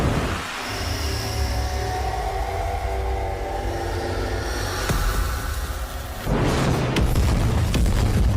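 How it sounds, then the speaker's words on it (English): A loud explosion sound effect rips apart a building, with a long heavy rumbling roar that builds and then breaks into a sharp crashing blast of debris near the end. "then soon a loud explosion would erupt, destroying half the building and 2 other buildings in front of it"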